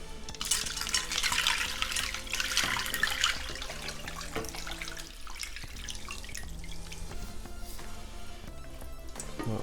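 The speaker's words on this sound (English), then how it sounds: "Pour a brine over." Brine is poured over pork chops in a bowl, a faint splashing trickle that is strongest early and then settles into quieter dribbles and drips.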